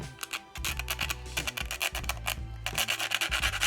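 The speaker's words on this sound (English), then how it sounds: "So I have some sandpaper. What I'm going to do is just sand it down" Sandpaper rubbed back and forth on a handmade hoop earring to smooth it, a steady close rasping scrape in quick repeated strokes with no talking.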